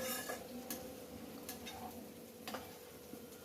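Vegetables frying in a pan for a home-cooked dish: a steady, soft sizzle runs throughout, with scattered sharp ticks and clinks from stirring, fairly quiet and close, with no voices.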